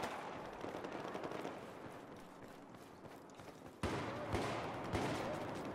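Gunfire in the PS4 multiplayer shooter Battlefield 4, a dense stream of distant shots under continuous battlefield noise, turning louder and sharper with several close bursts near the end.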